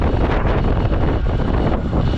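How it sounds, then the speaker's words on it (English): Strong wind buffets an outdoor microphone as a steady, loud, rumbling roar with gusty swells and no break across the whole stretch. "sorry for the windy, because we have too much of the wind here"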